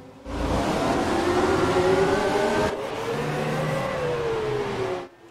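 Formula 1 cars in F1 2017 scream past close by, a loud sustained high-pitched engine wail with rising and falling pitch as one car passes and another follows, then cutting off.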